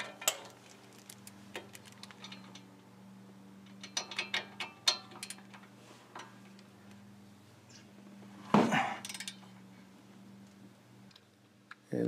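A ratchet clicks while brake parts on a Ford Expedition XLT are tightened during a brake pad change. Bursts of quick metallic ticks come in several short runs, close and fairly quiet, over a low steady hum, followed by a louder clank near the end.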